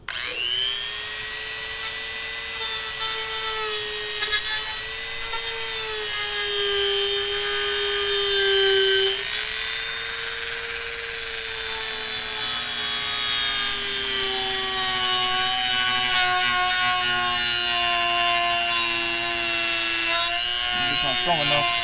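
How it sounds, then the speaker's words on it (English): Small Dremel rotary tool cutting through the tips of metal bolts during an old van conversion, a steady high-pitched whine with grinding overtones that holds continuously and shifts pitch slightly under load. "Now we're just gonna come through and cut the tips of all these bolts."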